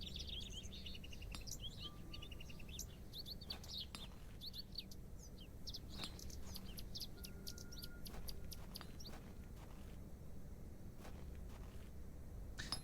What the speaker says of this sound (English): Birds in my garden can hear the game birds and they keep coming to my open window to investigate.